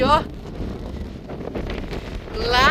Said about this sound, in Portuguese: como o vento é muito forte, as árvores tendem a ser tortas